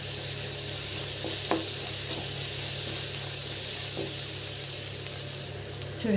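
Ginger paste and turmeric frying in a pan for an Andhra-style fenugreek fish curry, giving a steady, loud sizzle with a few faint clinks, heard close and without speech.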